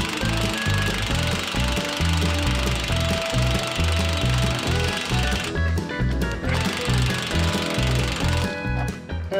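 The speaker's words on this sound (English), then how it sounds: "See if we can get some lug nuts off." Loud pneumatic impact tool on a blasted tri-axle lowboy trailer axle, hammering continuously in rapid bursts as it works lug nuts loose, close and steady with brief pauses in the rattle.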